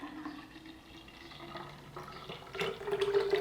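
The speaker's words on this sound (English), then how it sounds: "So we're going to pour our pineapple juice." Pineapple, lime and ginger juice pours steadily into a pretty jug, a soft liquid trickle that grows fuller and louder toward the end, with no talk over it.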